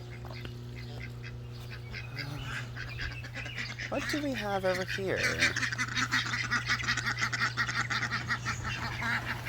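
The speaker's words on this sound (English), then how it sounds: "We have a loose duck." A loose duck on a garden pond, honking and quacking in a run of harsh calls at moderate distance, with a person speaking over the top and a steady low hum beneath.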